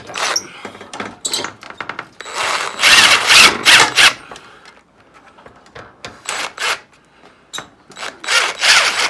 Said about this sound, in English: We'll take the drill and tighten those down.